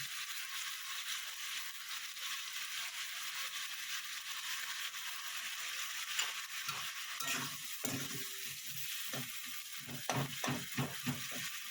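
Katla fish curry sautés in a pan with a constant hiss of oil, while a spatula stirs and scrapes in uneven bursts that grow busier and more clattery toward the end; no talking.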